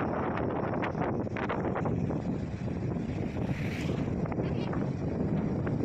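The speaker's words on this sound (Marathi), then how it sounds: "बिफरजॉय या वादळामुळे या लाटांचं प्रमाण वाढलं असावं।" Strong surf during Cyclone Biparjoy pounds Bhandarpule beach near Ganpatipule in a continuous loud wash of breaking waves. Heavy wind buffets the microphone throughout, with no talking.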